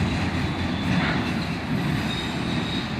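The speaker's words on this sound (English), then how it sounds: "Like the previous train, this one seemed to go on and on forever." A long CSX autorack freight train rolls steadily past at close range, a continuous loud rumble of wagons with faint wheel squeal, no voices.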